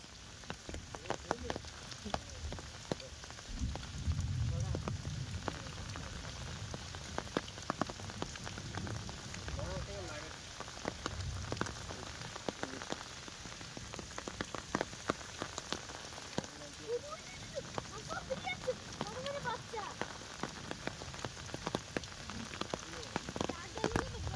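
A heavy downpour drums steadily on water and ground during outdoor fishing for koi fish, a dense, constant hiss and patter close around, with occasional splashes and no clear talk.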